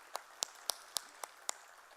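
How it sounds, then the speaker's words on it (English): A thin, sparse round of applause at a business chamber knowledge summit, with six distinct claps spaced evenly over two seconds, faint and somewhat distant, with no talk. "So a huge smashing round of applause for Mansi ma'am."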